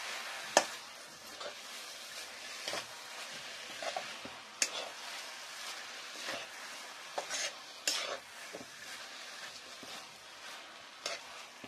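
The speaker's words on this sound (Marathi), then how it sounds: "आता हे छान मिक्स करून घ्यायचंय।" A spoon stirs a soft ladoo mixture with nutmeg and cardamom powder in a pan, giving repeated scraping and clinking strokes with a light sizzle underneath.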